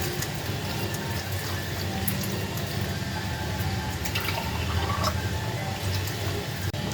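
Water pours steadily into a cooking pot after salt and vinegar are added for a quick dish, a continuous close splashing rush with no talk.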